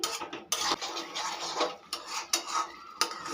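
Milk being mixed into cooked spices for Kashmiri aloo dum, heard as repeated scraping and clinking of a spoon against a metal pot in uneven strokes, close and fairly quiet, with no speech.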